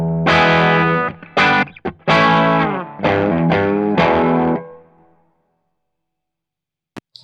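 An electric guitar runs through a Funny Little Boxes 1991 overdrive pedal with both gain controls turned fully down. Several loud, driven strummed chords ring in short bursts, then the last one fades into silence, followed by a faint click.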